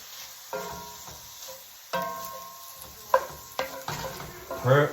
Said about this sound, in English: Put it in there and stir it around.